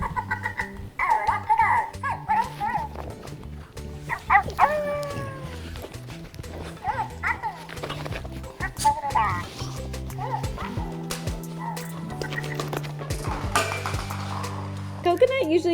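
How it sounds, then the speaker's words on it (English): A small electronic talking dog toy ball plays tinny barks, growls, yips and a chattering voice, alongside clattering and rolling noises and a person talking nearby. "It says it talks, growls, and interacts with your pet with over 20 funny wisecracks and sounds."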